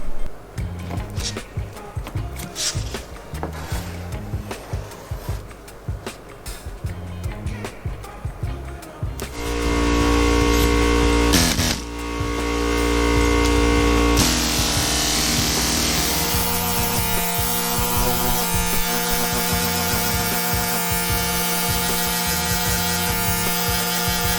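Power sanding on a car's bodywork before paint, starting around ten seconds in as a loud, steady buzzing drone that runs continuously to the end after a stretch of irregular clattering workshop noise.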